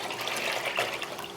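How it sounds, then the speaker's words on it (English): Water mixed with bouillon paste pours into a pot in a kitchen, a steady gushing splash throughout, fairly soft and without talk. "I'm actually gonna add 2 quarts of water with the bouillon,"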